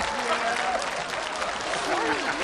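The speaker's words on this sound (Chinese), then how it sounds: "街坊邻居，你们还鼓掌呢？" Audience applause from a crowd at a live comedy sketch performance, steady and fairly loud clapping filling the whole stretch with voices mixed in.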